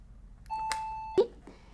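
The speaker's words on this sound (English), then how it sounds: "What I'm going to do is ring the doorbell." A doorbell rings once with a clear, bright chime tone, followed by a short thump and quiet room noise.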